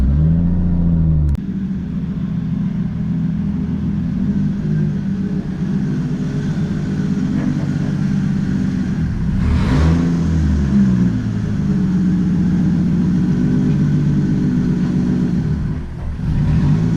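A Toyota Supra MK4 cruises on the road, its engine holding a loud, steady drone that swells audibly as it accelerates near the start and again about midway.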